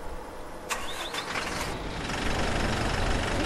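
Marcopolo Torino bus engine starting and then idling in the OMSI 2 bus simulator game, a sharp crank and catch followed by a steady, rough, mid-pitched idle rumble.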